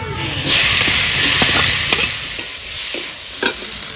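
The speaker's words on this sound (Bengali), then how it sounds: "ভাজা তো প্রায় হয়ে গেছে" Ghetkol frying in a pan of hot oil with dry chilli, nigella seeds, garlic, green chilli, salt and turmeric, a loud continuous sizzle with repeated scraping stirs close by.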